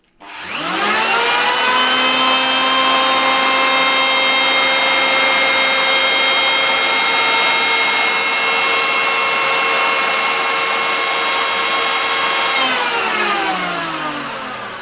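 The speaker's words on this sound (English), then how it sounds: "It's clearly a 710 watt planer, okay?" A 710 watt electric wood planer spins up and runs loud and steady for about twelve seconds with a high motor whine, then winds down near the end; no talking.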